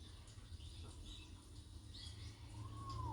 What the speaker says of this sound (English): And the birds are back.